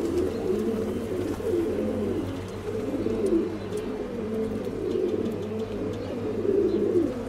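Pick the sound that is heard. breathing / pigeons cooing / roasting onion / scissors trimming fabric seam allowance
pigeons cooing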